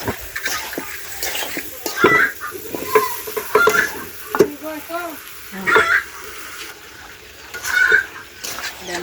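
Tomatoes fry in a pan for a fish curry with a sizzle, while a utensil stirs and scrapes in irregular bursts; faint voice sounds appear now and then.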